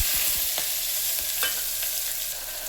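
Sliced onions and green chillies frying in oil inside a pressure cooker, a continuous close sizzle with a few scraping stirs of a spoon at the start.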